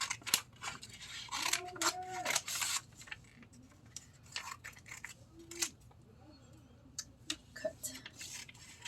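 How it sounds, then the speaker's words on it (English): Scissors snip out small paper pieces in short crisp cuts, close by and irregularly spaced, with rustling paper and light handling noises between the cuts and no speech. "So I'm just gonna go ahead and start by cutting these little guys because I'm gonna need them."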